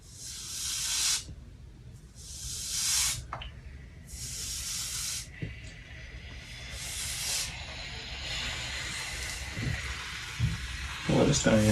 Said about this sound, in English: And you want to take the iron, and then you just iron it out.